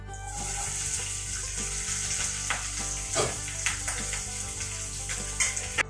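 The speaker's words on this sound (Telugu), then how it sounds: "ఇదిగో ఇప్పుడు ఉల్లిపాయలు పచ్చిమిరకాయలు పోసినవి ఇందులో వేసుకున్నాం." Sliced onions and green chillies fry in hot oil for a wild mushroom curry, giving a steady, bright sizzle with occasional stirring taps and a low background hum.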